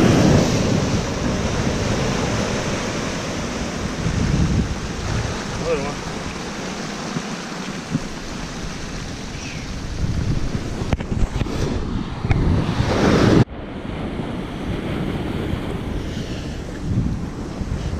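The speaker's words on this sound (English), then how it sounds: "Water." Ocean waves and surf wash steadily along the Santa Barbara County coast on a fishing outing, a continuous broadband roar buffeted by wind gusts against the microphone.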